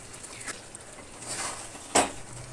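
Duck meat and potatoes being stir-fried in a pan, with faint scraping and clinking of a spatula against the pan and a sharper scrape near the end, with no talk.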